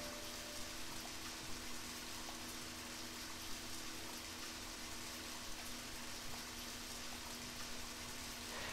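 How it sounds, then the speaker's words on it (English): Steady rain falls in the video game Deadly Premonition, a soft, even hiss of downpour with a faint low hum beneath, quiet and unbroken, no voices. "So it's raining now."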